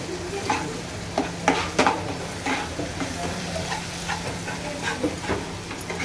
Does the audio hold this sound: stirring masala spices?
yes